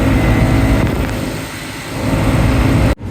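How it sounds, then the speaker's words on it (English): A generator runs steadily in a sunny race paddock at Donington, a loud, close, continuous broadband engine drone that dips slightly midway and cuts off sharply just before the end, with no voices. "Right, the generator is on,"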